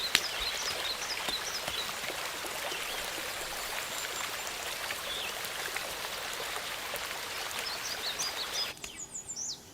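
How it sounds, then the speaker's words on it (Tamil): Steady rain falling outdoors, a dense continuous patter with a faint stream-like wash and a few bird chirps, fading abruptly near the end. "மழை அதிகமா வரும்னு நினைக்கிறேன்."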